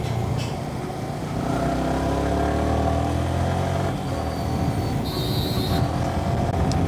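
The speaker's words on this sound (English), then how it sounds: "this engine loves to be revved" A Yamaha R15 V3 150cc motorcycle engine revving hard during a ride, a loud sustained rising whine with gear changes, heard close with wind noise.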